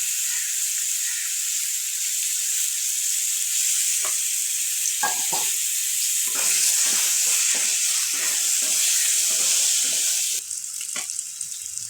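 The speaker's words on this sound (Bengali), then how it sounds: "আমার আলুটা ভাজা হয়ে গেছে" Potatoes fry in oil with a loud, steady hissing sizzle, joined partway through by scraping stirs and light clatter.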